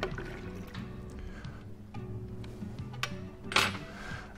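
A spoon stirs a bottled cocktail batch of about 180 ml, giving light clinks and scrapes of metal against glass amid a steady liquid swirl, with one brighter clatter near the end.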